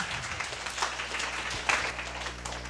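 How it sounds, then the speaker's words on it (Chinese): A seated audience at a university talk on internships claps to thank a teacher, a brief, fairly soft patter of many hands with a few louder claps standing out. "我们掌声谢老师"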